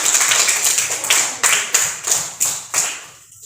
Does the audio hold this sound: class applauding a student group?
yes